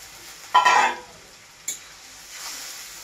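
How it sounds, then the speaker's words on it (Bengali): A splash of water poured into a pan of tomato fish curry bursts into loud sizzling for about half a second, then quieter spits and hissing follow, close by with no talk. "এটা একটুকু জল দিচ্ছি আমি"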